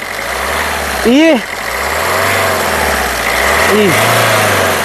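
A 2017 Maruti Suzuki Ciaz ZETA engine starts with a brief cranking burst, then settles into a steady, even idle close by. Voices speak over it.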